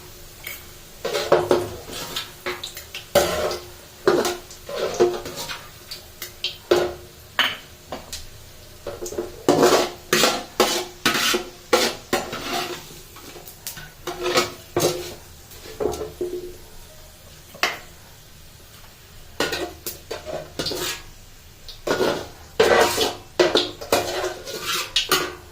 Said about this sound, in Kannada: ಬೆಳ್ಳುಳ್ಳಿನ ತೆಗಿತಾ ಇದ್ದೀನಿ.